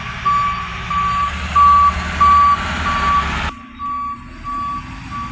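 A garbage truck backs up, its reverse alarm sounding a steady series of loud, evenly spaced beeps over a rumbling diesel engine that cuts off partway while the beeping continues.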